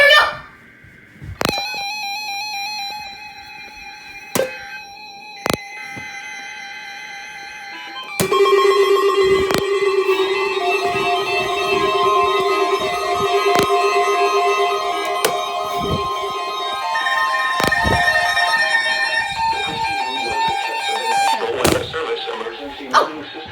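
Emergency Alert System weekly test from Atlanta, broadcast as a Wednesday morning test: sharp clicks and data bursts give way to a loud, steady sustained two-tone attention signal lasting many seconds, ending with a brief burst of noise.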